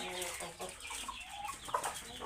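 Chickens on a poultry farm cluck in quick, overlapping bursts, moderately close and fairly quiet, with no talking.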